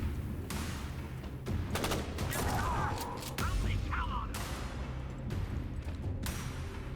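Shotgun blasts from the video game Beneath, several loud bursts of gunfire in quick succession over a steady rumbling game backdrop, with a voice talking at points.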